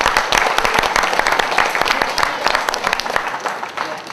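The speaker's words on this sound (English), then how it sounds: "Let's all give him a round of applause." Audience clapping at a taser demonstration, brisk dense applause with sharp individual claps standing out, close and lively for a few seconds.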